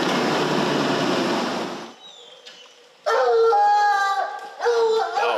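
Hounds on a bear chase during summer training bay in two drawn-out, howling bursts after a stretch of rushing background noise, fairly loud and with no talking over them.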